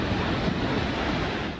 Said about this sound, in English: waves only seemed to be getting bigger by the minute